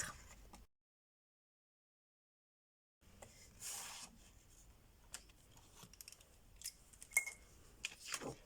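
Scissors snip through paper folded for a small gift box, a few close, crisp cuts and rustles separated by short pauses, with no talking.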